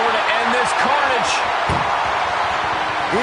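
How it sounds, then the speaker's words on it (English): A heavy ambulance door slams shut during a WWE 2K24 wrestling match, a single loud impact heard under continuous arena crowd noise and commentary. "close that ambulance door"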